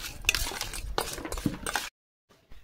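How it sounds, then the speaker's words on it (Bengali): Raw prawns are tossed with salt and turmeric powder in a bowl, producing soft, close clinks and scraping taps of a utensil against the dish in uneven bursts before stopping. "লবণ দিলাম আর খুব সামান্য হলুদ গুঁড়ো দিয়ে চিংড়ি মাছ ভালো করে মাখিয়ে নেব।"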